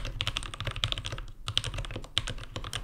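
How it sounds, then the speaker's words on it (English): A modded Keychron K8 mechanical keyboard is typed on in quick, continuous clacks. The keystrokes sound deep and creamy, loud and close, with no voices. "I applied some keyboard mods on my K8 to make those creamy ASMR thud"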